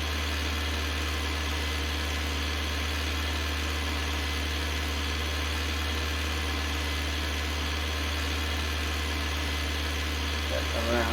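An older Fordson Power Major tractor engine runs steadily, a loud, continuous low mechanical drone with no change in pace throughout.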